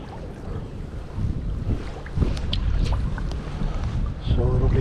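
Strong downstream wind at the Sheboygan River buffets the microphone with a steady loud rumble, gusting louder in bursts, along with faint water movement.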